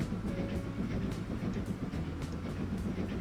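Steady rolling rumble of a steam train on a track in Transport Fever 2, carried by repeated clacking of wheels over rail joints, close and continuous with no talking.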